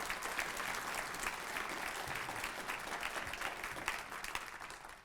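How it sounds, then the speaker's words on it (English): An audience at a human rights awards ceremony breaks into sustained applause, a dense steady wash of many hands clapping that continues for the whole stretch with no voices over it. "Let's give everyone a big round of applause."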